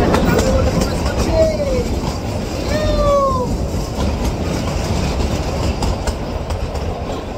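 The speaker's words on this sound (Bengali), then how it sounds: "এই যে টয় ট্রেনটা, এটাও কিন্তু কালকার দিকে যাচ্ছে" Kalka–Shimla toy train passing in the opposite direction on the hill line, a steady rumbling roll of wheels on rails with a few rising squeals, heard close and continuous throughout.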